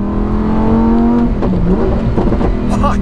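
Lamborghini Huracán STO, a road-legal racing car, revving hard above 4000 rpm, its engine note climbing and rising to a harsh, loud wail while heard from inside the cabin.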